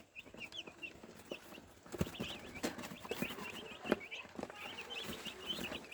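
Five-day-old broiler chicks on a small farm chirp in a constant high-pitched chorus, with scattered peeps and soft rustling or pecking thuds close by.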